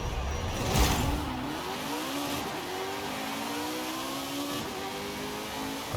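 A car engine in the Forza Horizon 5 video game revs up on a run, its strained engine note climbing in pitch through several gear changes, loud and close with no talk.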